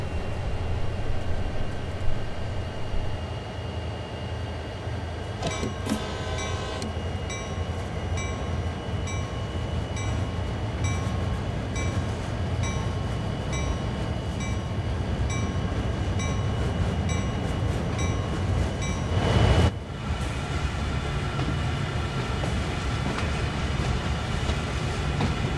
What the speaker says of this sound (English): As you can see, the train is rolling.